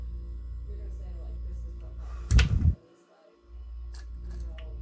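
Scissors snip through fly-tying wire in a single sharp close cut, a brief crisp clip standing out against quiet room tone.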